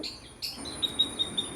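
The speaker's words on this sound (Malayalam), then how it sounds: "പലയിനം പക്ഷികളുടെ ശബ്ദവും ഈ വീഡിയോയിലൂടെ നിങ്ങൾക്ക് കേൾക്കാം" Several bird chirps ring out, a sharp call followed by a quick series of short, evenly spaced tweets against quiet outdoor ambience.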